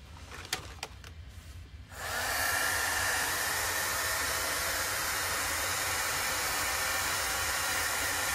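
A hair dryer switches on after about two seconds of quiet handling and blows a steady, loud, broadband whoosh to dry chalk paste on a Valentine's Chalk Couture craft project.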